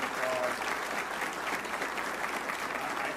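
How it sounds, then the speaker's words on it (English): A crowd at a celebration-of-life gathering gives steady applause, a soft, even patter of many hands that holds at a moderate distance throughout. "You deserve a round of applause"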